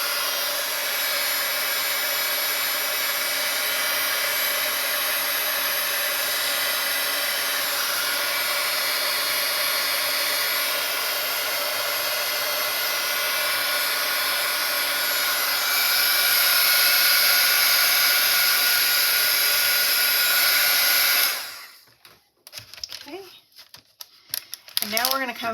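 A heat tool blows hot air over painted background paper, a loud steady roaring whoosh lasting around twenty seconds before cutting off into quieter handling noise.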